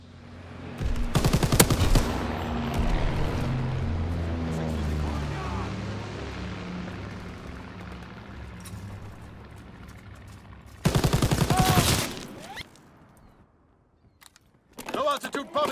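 Flak guns fire in Call of Duty: WWII, with two dense bursts of booming anti-aircraft fire, the first early and the second near the end, set over a steady rumbling battle bed. A voice speaks between the bursts.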